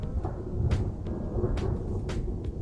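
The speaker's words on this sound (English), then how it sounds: "watching it rain and listening to the thunder" Steady rainfall patters on a shed over a low rumbling of distant thunder, with a few sharp drips and knocks standing out.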